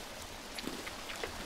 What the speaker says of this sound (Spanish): Claro, porque está lloviendo.